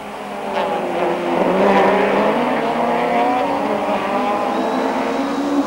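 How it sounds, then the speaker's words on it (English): Touring race cars at Kyalami in 1997 scream past the pit straight, engines loud and close with rising and falling whine as they go by, one after another. "the leaders come flying past the pits"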